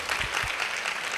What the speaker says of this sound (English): clap for me too. Clap for me.